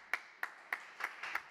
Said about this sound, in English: Colin, give him a great hand of applause